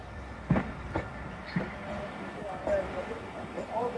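Narowal passenger train pulls away from Badami Bagh station, with low rumbling and a few heavy clunks and knocks of carriages, plus faint squeals, heard from on board with some voices in the background.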